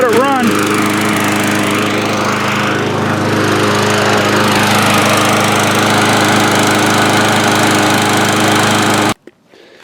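A walk-behind lawn mower engine starts up and keeps running, a loud, steady near drone with a rising pitch at the start, holding evenly for about nine seconds before cutting off abruptly.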